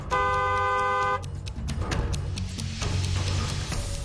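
A car horn blares in one long steady honk, then traffic noise follows with a few short clicks and thumps.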